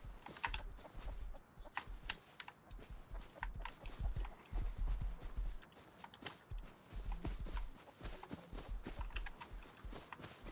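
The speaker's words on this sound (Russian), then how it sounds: "Классный конь." Horse hooves clip-clop at a steady walking pace in the survival game DayZ, a continuous run of close, fairly loud hoofbeats with no talking.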